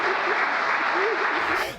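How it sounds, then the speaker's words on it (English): Crowd applause at a political event, a steady wash of clapping with a voice talking over it, fading out near the end. "That's an applause line."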